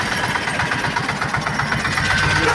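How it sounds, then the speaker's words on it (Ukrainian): Tractor engine running in low first gear while pulling a herbicide sprayer with its pump switched on over stubble, a steady close rhythmic chugging with a constant higher mechanical whine. "Зараз включаємо першу понижену, включаємо насос, тут в мене стоїть і погнали."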